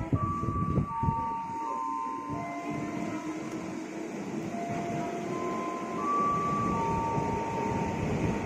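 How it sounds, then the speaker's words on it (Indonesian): A KRL commuter line train rolls into a station in Jakarta, its rumble and clatter building steadily with sustained high brake squeals and tonal whines over about eight seconds, loud and fairly close. "KRL Jakarta Kota akan segera tiba"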